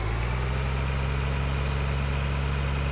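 A tractor engine idles in the farming game Farming Simulator 2013, a steady low droning rumble with an even pulse, constant and unbroken with no talking.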